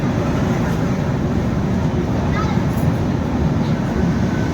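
The Howrah–Puri Shatabdi Express, train 12277, runs between Balasore and Bhadrak with a loud, continuous rumble and rushing roar that stays steady and close throughout.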